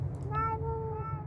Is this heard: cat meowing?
yes